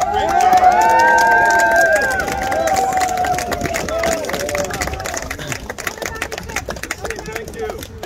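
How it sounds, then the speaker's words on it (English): A crowd claps and cheers at an outdoor demonstration against Bill 96, with a speaker's amplified voice ringing over the start before the applause carries on alone, scattered and rhythmic, fading toward the end. "I want everyone to give themselves a round of applause."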